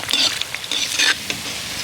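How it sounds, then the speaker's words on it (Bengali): Lote fish chops crisping in hot oil as they are flipped, a close crackling sizzle with a couple of quick bursts from turning, brief and without talk. "এইভাবে উল্টে পাল্টে সুন্দর করে মুচমুচে করে ভেজে নেব।"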